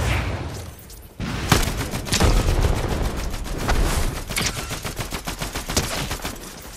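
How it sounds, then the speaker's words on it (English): Dense, loud gunfire in a build-mode battle royale video game, a rapid string of sharp cracks and booms after a brief lull, close and continuous, with no talk over it. "Okay, who just sniped? We're getting third party."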